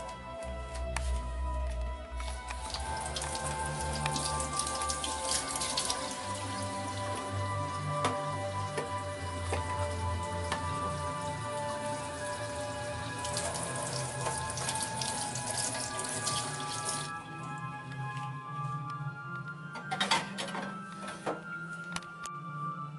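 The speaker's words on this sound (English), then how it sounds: "wash the knife after you use it." Kitchen tap water runs continuously into a sink while a knife is washed during salmon dinner prep, a steady rushing stream with brief clatter and splashing changes, close and alone without speech.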